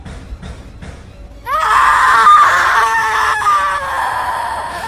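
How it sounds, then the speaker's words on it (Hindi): A ghost lets out a loud, sustained shrill scream that bursts in suddenly after a few faint knocks and holds for several seconds. "छलावा ने चीख मारी"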